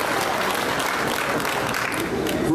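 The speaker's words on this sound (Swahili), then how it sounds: "Situmpigie makofi." An audience at a Kenyan political rally breaks into dense clapping, a steady wash of many hands at close range, with voices mixed into the crowd.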